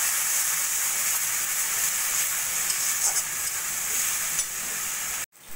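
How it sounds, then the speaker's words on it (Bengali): Spice paste of ginger, garlic, green chilli and cashew frying for pabda fish curry, a loud steady sizzle right up close that runs unbroken, then cuts off abruptly near the end. "দিয়ে ভালো করে মশলাটা কষিয়ে নেব"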